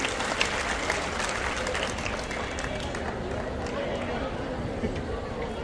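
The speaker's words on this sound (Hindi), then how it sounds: "जोरदार तालियों से स्वागत करें।" Sustained loud applause from an audience at a public ceremony in Uttar Pradesh greets a cabinet minister arriving on stage, dense continuous clapping mixed with crowd murmur.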